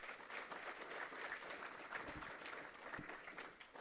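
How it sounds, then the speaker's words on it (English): A recovery-group audience applauds at a Celebrate Recovery meeting, a soft, continuous patter of many hands heard at a distance, fairly even with a couple of heavier thumps. "One more round of applause."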